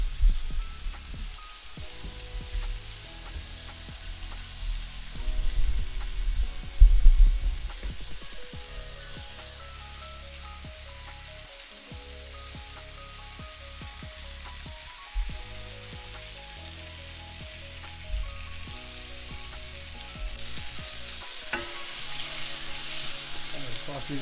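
Onions fry in a pan for lomo saltado, a steady low sizzle running throughout with occasional stirring clatter and brief louder bursts.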